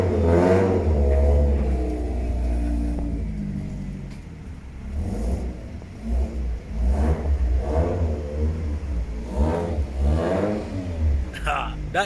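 A Toyota MR2 with a starting issue that has been fixed revs its engine, giving a deep rumbling drone with rising and falling pitch. Loud voices talk over it for much of the time.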